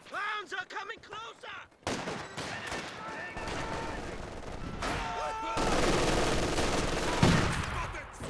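Rapid bursts of gunfire and fusillades crackle through a Company of Heroes 2 3v3 battle, dense and continuous, mixed with explosions and running under commentary.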